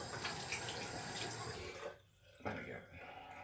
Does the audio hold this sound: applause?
no